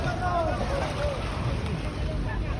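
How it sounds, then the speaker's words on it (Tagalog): Fishing boat engines hum over the water with wind buffeting the microphone, a steady low rumble from vessels drawing nearer. "may mga padating pang ibang bangka"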